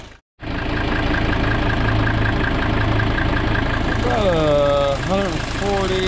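A Mercedes 300SD diesel engine idles steadily while warming up, close and loud with a constant rumble from just after the start, and a voice speaks over it near the end.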